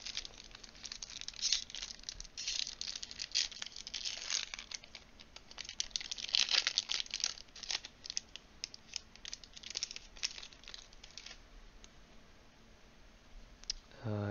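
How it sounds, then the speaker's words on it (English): A foil wrapper on a Warlord: Saga of the Storm trading card booster pack being torn open, close and crisp, with bursts of crinkling and clicking that go on for several seconds and then taper off. "Let's go ahead and crack the booster."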